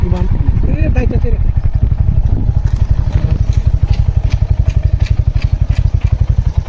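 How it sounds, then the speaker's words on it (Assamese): A motorcycle engine runs close by in a clean hill village, a loud, rapid, steady thumping putter with a slight clatter. Someone speaks over the start, then the engine carries on alone. "এই আমাৰ আৰু এখন বাইক আগতে আহি পালে আৰু এই বাইকখন লৈ আমাৰ এই নজমুল"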